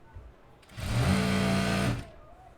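A sewing machine stitches a lined suit, running in one fast burst of about a second with a steady whirring hum and needle rattle, preceded by a brief mechanical click and quiet surroundings.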